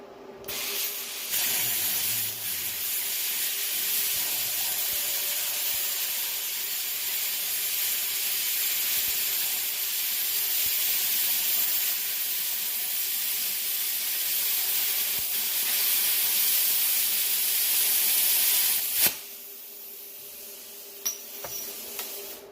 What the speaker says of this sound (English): I would let you guys watch me finish the cut here.